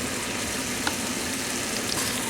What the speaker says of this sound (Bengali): এখন আমি মশলাটা আরো সুন্দর করে কষিয়ে নেব।